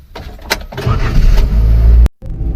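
A car engine cranks and catches, settling into a steady low idle close by, then cuts off briefly before resuming, with no speech over it.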